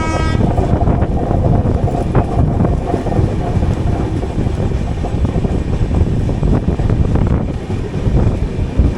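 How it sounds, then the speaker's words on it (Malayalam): An LHB-coach express passes on the opposite line, heard from inside a moving AC coach as a loud, steady, broadband rail rumble that holds throughout. "ഓപ്പോസിറ്റ് ലൈനിൽ ഏതോ ഒരു LHB ട്രെയിൻ വരുന്നുണ്ട്."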